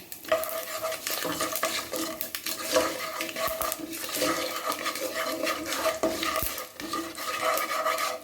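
Mustard seeds, cumin, fenugreek and dried chilies spluttering in hot oil for sambar, a continuous crackling sizzle with stirring scrapes against the pan, close and steady, no voices.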